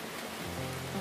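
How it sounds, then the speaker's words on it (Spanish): Heavy rain at the pier on Lake Pátzcuaro, a dense, continuous broadband hiss of downpour with a low tonal hum underneath, no talk. "Ahorita se acrecentó la lluvia."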